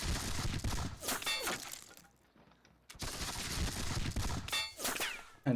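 Musket volleys from a Seven Years War battle game depicting Zorndorf: dense, crackling bursts of gunfire rolling together in loud waves, a brief lull, then another heavy sustained fusillade.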